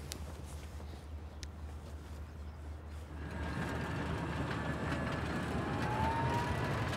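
A tractor pulling a seed drill through a field, its low engine rumble steady at first and then growing louder and rougher as it gets underway, with a faint high whine riding on top.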